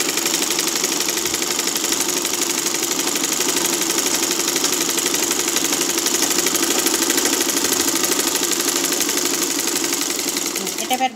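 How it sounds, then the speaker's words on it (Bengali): A sewing machine runs steadily while stitching a pillow cover, a continuous close, buzzing mechanical whir with a rapid needle rhythm that slows and stops at the end. "সেই দেড় ইঞ্চি পরিমাণ সেলাই করে নিতে হবে"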